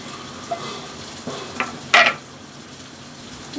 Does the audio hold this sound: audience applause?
no